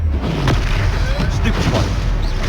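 Spell-blast booms from the Confringo fire curse in Hogwarts Legacy, a dense rumbling impact with crackling debris rolling continuously through the whole stretch, loud and close, with shouted voices mixed in.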